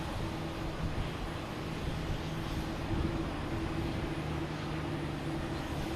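An American Airlines airliner in the new gray livery at Boston Logan Airport gives off a steady, broad jet roar from moderate distance, even and unbroken for the whole stretch with no one talking.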